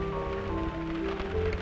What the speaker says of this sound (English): We can't run under these leaves every time it rains.